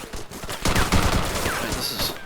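Gunfire in the ARMA 3 video game, a close, rapid volley of overlapping rifle and machine-gun shots cracking continuously through a short firefight.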